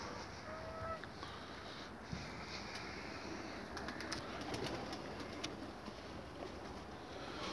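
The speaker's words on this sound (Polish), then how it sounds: "Gołębie jest żywe. Podchodzą zaraz." Pigeons at an evening feeding at a loft in Elbląg, Poland, with faint cooing and wing flutters spread through steady low ambient noise, no talk.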